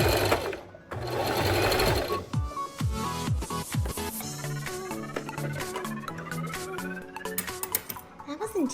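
A Singer Prisma heavy duty sewing machine stitches in reverse, giving a loud whirring motor burst followed by shorter stop-start runs, with someone talking over the machine.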